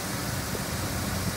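A Ford Bronco's swapped-in D2 engine idles warm at operating temperature, giving a steady, even rumble throughout with no talking.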